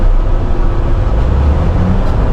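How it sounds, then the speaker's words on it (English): Tractor trailer engine braking on a highway approach, a loud, steady low diesel rumble with heavy broadband road and engine noise filling the cab throughout, no voices. "I don't know if you can hear my engine braking, but you'll hear the RPMs going real high."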